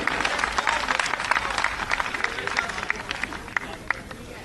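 A crowd at a political rally claps in steady, sustained applause to welcome Union Minister Hardeep Puri, with a voice audible amid the dense clapping.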